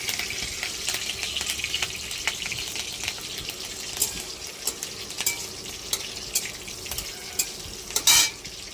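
Slit green chillies frying in hot oil in a pan, with a steady sizzle and intermittent scraping stir strokes, louder clattering near the end.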